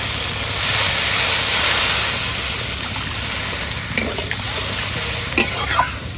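Water poured into a pan of frying mustard spice paste with turmeric and green chilli paste, giving a loud, steady sizzle and hiss throughout, with a few stirring clinks near the end.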